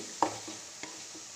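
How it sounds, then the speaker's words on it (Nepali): Carrot halwa with sugar is stirred in a pan, with a few soft scraping clicks from the spoon over a quiet background hiss. "यसलाई एकछिन मजाले चलाउने यसरी"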